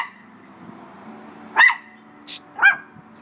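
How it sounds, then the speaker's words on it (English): A dog barks sharply a few times, close by, with short gaps between barks over a quiet background. "No more. No barking."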